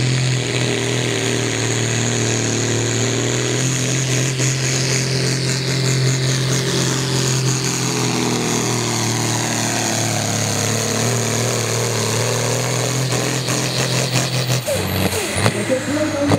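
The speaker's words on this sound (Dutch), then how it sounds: "zo langzaam begint er een turbo te fluiten en begint de koppel in de motor te komen" A 3600 kg Supersport class pulling tractor at a 2016 Achterberg tractor pull roars under heavy load, the engine droning steadily while a rising turbo whistle builds above it, the pitch climbing before a sudden drop near the end.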